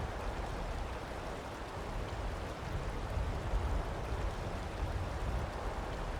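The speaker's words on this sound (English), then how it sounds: "Raindrops bounce off their hood as the cold wind blows against their cowl." Steady rain and cold wind form a continuous, even ambience in a Skyrim-style setting, a dense soft hiss with a low rumble that holds at a constant level, with no voices.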